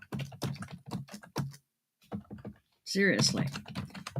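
Typing on a computer keyboard, a quick clatter of keystrokes close by, running under a person talking and pausing in a home setting.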